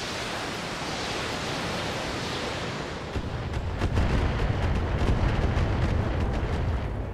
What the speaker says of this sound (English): That's a lot of missiles.